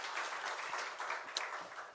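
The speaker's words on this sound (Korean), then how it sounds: "우리 하나님께 영광의 박수 올려드리겠습니다." A church congregation clapping during a Sunday worship service, a dense, even patter of many hands heard at a moderate distance, fairly soft and continuous for a couple of seconds.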